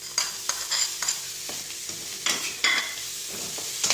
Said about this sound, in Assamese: এইখিনি খুব ক্ৰিস্পি হোৱাকৈ বা অকণমান জলজীয়া হোৱাকৈ ভাজিম।